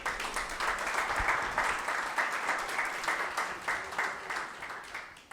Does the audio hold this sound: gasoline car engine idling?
no